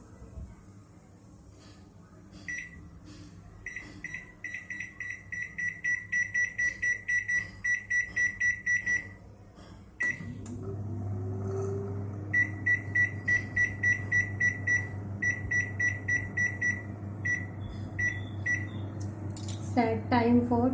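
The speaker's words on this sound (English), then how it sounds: "Now let's start for cooking in microwave. Start microwave." Microwave oven in grill mode, set while cooking kulcha, gives a run of sharp repeated beeps, then starts with a steady low hum as more beep bursts follow over it; loud and close, no talk.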